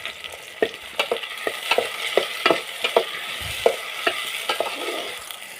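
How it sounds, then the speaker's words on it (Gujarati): Chopped onions and tomatoes cook in a pan for a Gujarati shaak, sizzling steadily while a spoon scrapes and stirs in repeated sharp strokes, close and clear with no talking. "ડુંગળી ચડી જાય પછી એમાં કાપેલા ટમેટા નાખી દેવું એને થોડીક વાર પકવી લેવું"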